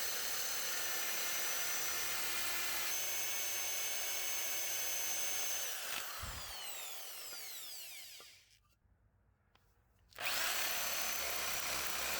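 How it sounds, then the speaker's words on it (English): A power drill whines steadily while boring into wood, pausing and spinning down near the end, then starting again loudly. "I'm gonna drill a hole straight through these two."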